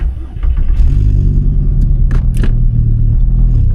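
A 5-cylinder-swapped VW Mk2 GTI idles with a steady low rumble, and a couple of sharp mechanical clunks come through as it is shifted into first gear. No one speaks.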